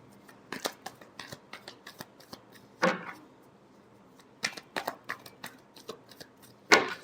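Tarot cards are shuffled by hand, giving quick papery riffles and flicks in scattered bursts with a few sharper slaps as the deck is squared, close and fairly quiet with no talking.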